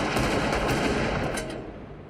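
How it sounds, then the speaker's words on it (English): Gunfire from a film shootout following a Mexican standoff in Reservoir Dogs, a dense, loud barrage of overlapping shots that fades slightly toward the end, with no talk. "a classical Mexican standoff, where everyone points guns at each other and eventually gunfire starts"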